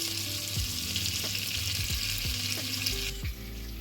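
Oil sizzles in a kazan pot, a steady, close frying hiss that runs throughout with a few faint knocks and clatters underneath.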